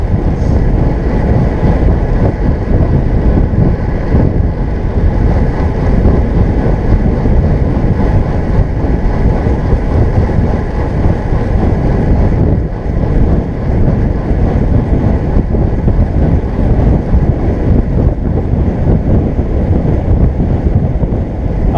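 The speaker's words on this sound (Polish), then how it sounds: "ale wieje" Strong wind buffets the microphone while riding on the Reja loop, producing a loud, continuous low roar that smothers everything else for the whole stretch, with no voices.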